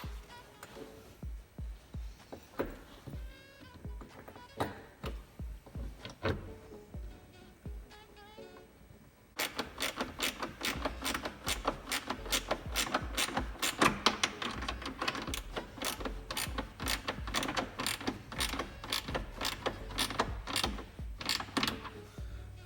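Bolts are fastened into brackets on a Jeep Wrangler stealth box, a busy run of close mechanical clicking and ratcheting that turns into a fast, steady rattle of ratchet strokes partway through.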